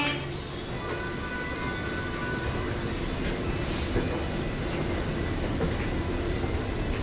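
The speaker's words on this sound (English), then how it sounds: "It's time for the monorail." A monorail train in Japan gives a steady, continuous rumble with broad mechanical noise, moderately loud and even throughout.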